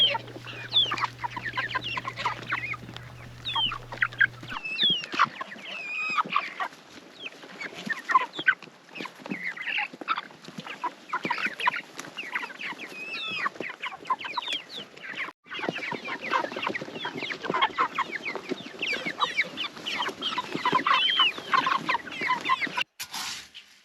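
Chickens on a homestead cluck busily while eating feed pellets. Many short, overlapping clucks come at close range throughout, with a low hum in the first few seconds and no talking.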